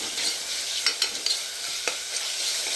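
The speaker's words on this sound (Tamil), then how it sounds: "நல்லா ஆயிலே ஃப்ரை பண்ணுறேன்." A paste of garlic, mint and coriander fries in oil in a pan, with a steady close sizzle and a few scraping stirs, no voices.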